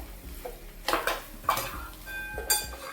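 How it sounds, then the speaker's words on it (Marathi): Butter goes into hotel-style pav bhaji in a hot pan and is stirred in, with a soft sizzle broken by several loud metallic clanks and scrapes of the spoon against the pan. "पुन्हा एक टेबल स्पून आपण त्याच्यामध्ये बटर घालूया"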